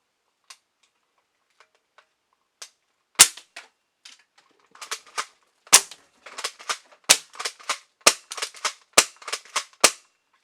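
A Game Face Voodoo airsoft shotgun fires BBs in a string of sharp, snappy cracks, close by, with the shots coming faster and denser toward the end amid mechanical clicks.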